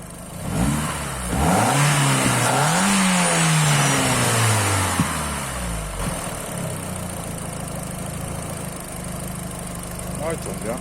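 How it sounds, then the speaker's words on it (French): A VW GTI 1.8T four-cylinder running on 100% ethanol revs up in a couple of sweeping bursts, then settles into a steady, slightly uneven idle, loud and close, with someone speaking over it. "Ça fait un beau bruit. Moteur, regarde, il tourne rond."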